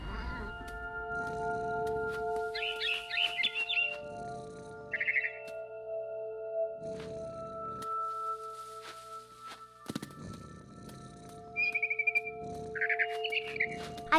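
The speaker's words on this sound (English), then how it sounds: "Then I heard chirping outside my window. It was a barn swallow going back to her nest." Barn swallow chirps in the game What Remains of Edith Finch, short bright twittering bursts scattered over a steady ambient tone with soft thumps and footsteps in between.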